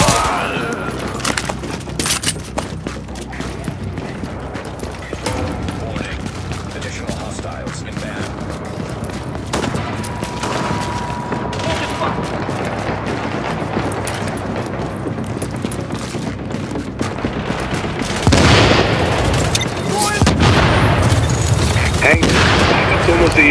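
Sustained gunfire in a firefight in The Division at a Queens tunnel camp, dense rattling bursts of automatic weapons that run continuously and swell louder near the end, with voices calling out over the shooting.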